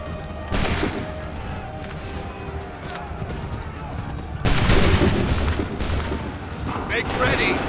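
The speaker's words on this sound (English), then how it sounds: "Make ready! Open fire!" Musket volleys in an Assassin's Creed III battle, with repeated booming gunfire bursts over a dense din of shouting soldiers and hoofbeats, loud and close with a heavy second volley midway.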